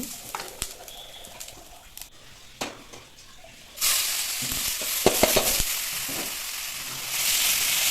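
Spices for rasam tempering in hot oil, sudden loud sizzling that jumps up midway and holds as a steady hiss with a few sharp spatters, while a dove coos and birds call softly in the background earlier on.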